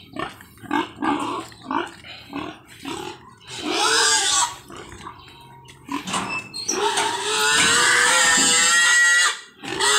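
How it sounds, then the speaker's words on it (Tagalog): Mother pigs on a farm in Barangay Balingbing, Bulacan, grunting and oinking in short repeated bursts, then breaking into a long loud sustained squeal near the end, close by and with no talk. "itong ating mga mama pig"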